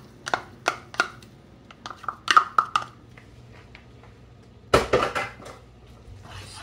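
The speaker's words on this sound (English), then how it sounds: "Stir the shrimp in there until they just start turning pink." Shrimp are stirred in a pan of blue crab sauce, and a metal utensil knocks and clinks against the pan in scattered, fairly quiet taps with short pauses between them.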